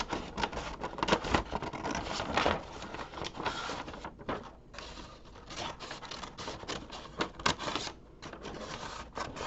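Scissors cut along the edge of a plastic bag, a close, continuous crinkly snipping and rustling of plastic with brief pauses between strokes.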